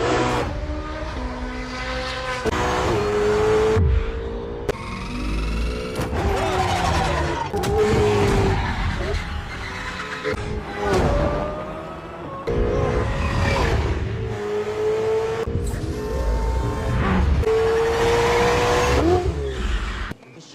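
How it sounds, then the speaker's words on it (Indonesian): A red sports car driven fast in a film roars through repeated revving accelerations and gear changes, with squealing tire skids amid loud music and effects. A voice talks over the action. "ternyata skill mengemudinya 1-2 sama Dominic Toretto dalam Fast and Furious"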